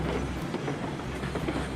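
A freight train rolls along in the Railroads Online video game, a steady rumbling run with faint rhythmic clatter of wheels, continuous and moderately loud.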